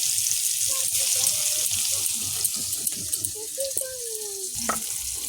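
Water poured into a pan of river crabs cooking on the stove, a steady splashing hiss over frying crackle, with a few short voice-like tones and a clatter near the end.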